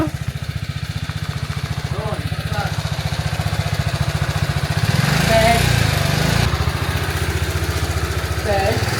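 Motorcycle engine running steadily throughout a ride as a passenger, a rough buzzing drone that swells louder midway, with talk in Filipino over it.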